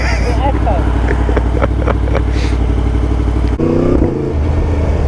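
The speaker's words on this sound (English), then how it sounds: "That's so fucking loud. Oh my god. They're mad, the backfires, aren't they?" A Yamaha MT10 fitted with a loud Akrapovic exhaust rumbles close by with sharp crackling backfire pops through the first half, then the tone shifts to a deeper burble; a voice is also heard over the engine.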